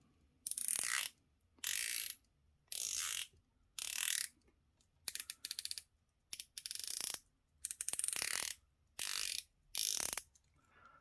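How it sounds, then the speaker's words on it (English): A dive watch bezel on a Tactical Frog watch rotated in repeated short bursts of crisp ratcheting clicks, about ten separate turns with brief pauses between, close and clear with no talk. "Let's check the bezel out."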